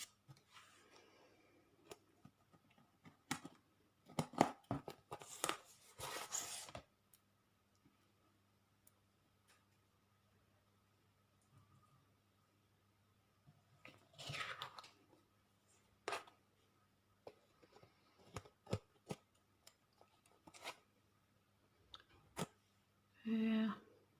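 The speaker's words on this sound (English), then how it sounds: "Now I'm going to cut off the edges." Scissors snip through the edges of a travellers notebook cover in scattered bursts of short crisp cuts and clicks, close by, with quiet pauses between and no talking.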